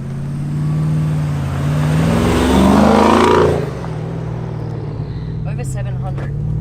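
An Aznom Palladium with a 5.7-litre bi-turbo V8 accelerates hard, engine rising to a loud swell and then easing off, with turbo whistle and some voices reacting over it.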